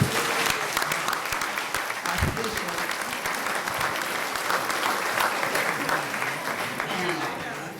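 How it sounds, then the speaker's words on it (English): Sustained applause from an audience, a dense even clatter of many hands clapping that carries on throughout. "Please give a hand of applause for this wonderful"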